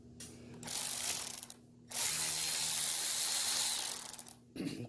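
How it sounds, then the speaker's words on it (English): A ratchet with a 1/4-inch socket backs out GM seat rail screws, two long close bursts of rapid clicking separated by brief pauses. "It's a 1/4-inch socket that takes them out."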